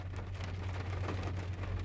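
Steady rain falling, heard as a continuous dense patter on a surface with a constant low hum underneath, fairly close and unbroken, with no voices.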